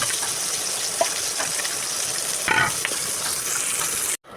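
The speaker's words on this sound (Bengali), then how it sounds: "আর এই ফাঁকে শাকটাও ধুয়ে নিচ্ছি" Tap water runs in a steady gush while leafy greens are rinsed in a home kitchen, with a brief splashy burst midway before the sound cuts off abruptly.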